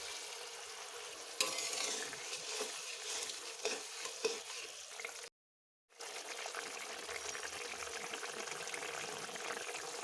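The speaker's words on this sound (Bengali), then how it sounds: "এবারে আমি এর মধ্যে মাছগুলো দিয়ে দেব।" Mourala fish added to simmering mustard-oil gravy with slit green chillies, a steady close bubbling sizzle with stirring, broken by a brief silent gap midway.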